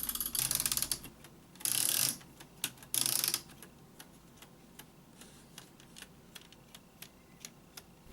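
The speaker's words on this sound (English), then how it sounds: "this wooden key winds up the spring that rings the bell" A ROKR LK503 wooden owl clock with a spring-wound mechanism gives a few short, loud ratcheting bursts, then settles into steady, close, quiet ticking with no talk.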